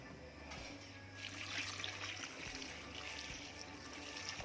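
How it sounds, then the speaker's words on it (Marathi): Water poured into a pot of Malvani-style taro leaf curry with kokum and salt, a steady splashing, trickling flow close by that runs without a break throughout. "तर मी एवढ्या आळूसाठी 1 तांब्या पाणी घातलेलं आहे."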